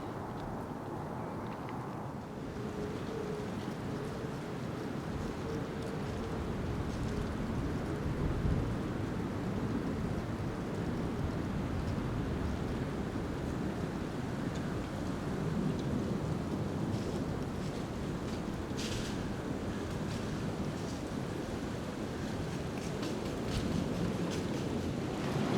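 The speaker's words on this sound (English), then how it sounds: "Wind's picking up again." Steady broadband wind roars outdoors in a Maryland woodland during the mid-November deer rut, a constant rushing wash with occasional gusty swells throughout.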